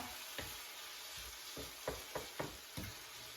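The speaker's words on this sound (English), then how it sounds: "So I'm sauteing this, like I said, for roughly 2 minutes" Sweet peppers sauté in a hot pan, a steady low sizzle running under several sharp clacks of a utensil stirring and tapping against the pan.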